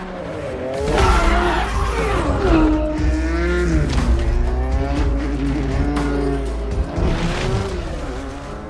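A car in a racing video game drives fast: its engine roars and revs in rising and falling sweeps, with squealing, skidding tyres, loud and continuous throughout.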